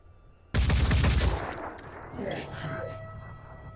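One sudden, loud volley of gunshots erupts during an assault in Blood and Titanium and holds for about a second. It fades into a rolling, reverberant tail with scattered smaller impacts.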